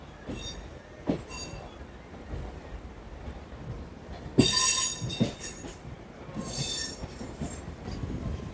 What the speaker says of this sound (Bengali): আমাদের ট্রেন কিন্তু ছেড়ে দিল হাওড়া স্টেশন থেকে।